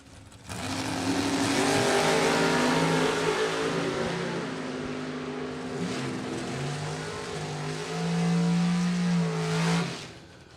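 Camaro drag racing car at a doorslammer drag event accelerating hard down the strip, a loud sustained engine roar with rising harmonic sweeps through gear changes over about ten seconds before cutting off.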